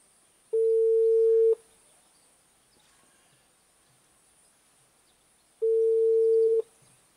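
Two long steady ringback tones about a second each, separated by several seconds of near silence, clear and electronic like a phone ringing on the line.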